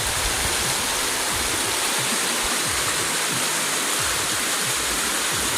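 Loud, continuous roar of a river rushing close by, dense and unbroken throughout with no talking.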